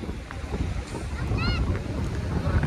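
At sea on a small boat in rough water as the southwest monsoon sets in, strong wind roars across the microphone over the churning wash of waves, with a brief thin whistle partway through.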